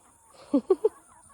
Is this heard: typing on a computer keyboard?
no